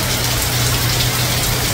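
Steady broadband rush of rain or running water falling continuously, loud and close, with no voices over it.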